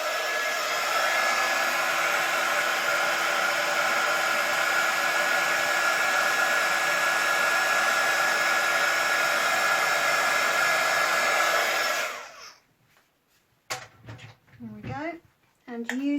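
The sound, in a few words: heat tool used for embossing in card making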